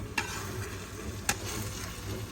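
Uzbek plov rice is stirred in a pot, with a soft continuous sizzle and two sharp scraping knocks of a utensil against the pot, close and fairly quiet.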